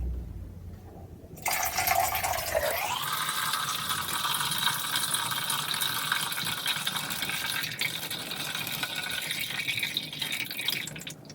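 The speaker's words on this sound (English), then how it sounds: "the second step is to fill in the water here" Water pours steadily into the reservoir of an Aerogarden Harvest indoor herb garden, starting abruptly as a loud, continuous gush that keeps rushing with a slight shift in tone as the tank fills, with no talk over it.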